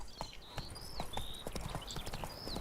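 Roach the horse gallops in The Witcher 3: Blood and Wine, with rapid, rhythmic hoofbeats close and loud alongside a whinny, with no talk.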